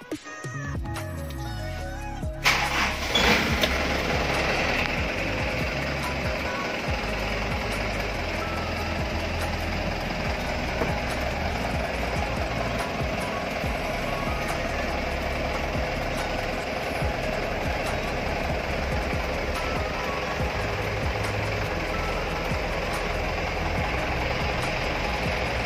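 A 2011 turbo intercooler truck engine cranks and catches after a few seconds, then settles into a loud, steady, rumbling diesel idle that carries on without a break.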